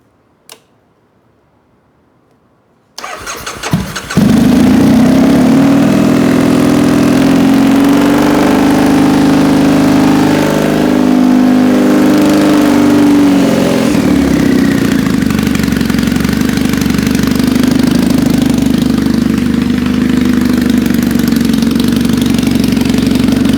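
An air-cooled Triumph Bonneville motorcycle with 2-2 drag pipes, untuned and needing rejetting, starts after a few seconds of near silence, then runs at a loud, steady, rumbling idle close by for the rest of the clip.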